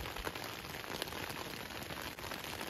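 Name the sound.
rain falling at 4 a.m. on the trail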